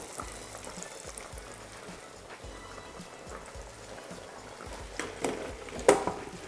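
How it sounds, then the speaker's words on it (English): Chicken pieces deep-fry in hot oil, giving a steady, moderate bubbling sizzle with a few louder crackles near the end. "So we're going to fry these for 7 minutes."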